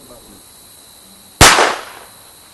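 A single sharp gunshot from a Walther P22 pistol rings out on its own after quiet, with a short decaying tail.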